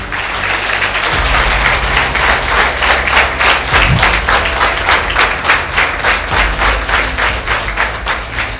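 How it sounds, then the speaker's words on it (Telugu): A college audience at a talk session claps loudly for themselves, a sustained burst of many hands in quick rhythmic waves, close and energetic, with a few thumps mixed in. "మీకోసం మీరు క్లాప్ కొట్టుకోండి గట్టిగా"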